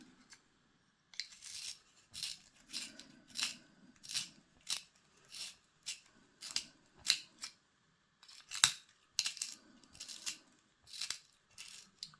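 A handheld pencil sharpener works on a pencil in a quiet ASMR setting, producing a steady series of close, crisp scraping bursts about once a second with brief pauses between turns.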